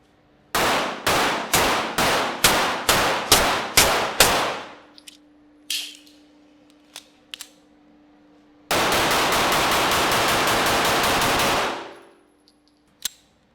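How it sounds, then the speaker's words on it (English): A SIG P211 2011 pistol fires SIG V-Crown hollow point rounds outdoors, first as about nine loud evenly spaced shots, then a few scattered single shots, then a long rapid burst, all close and sharp with ringing between. "2 mags of SIG Personal Defense V-Crown hollow point."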